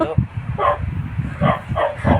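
A dog barks in a home in a few short, spaced yips and woofs, fairly close, mingled with people talking.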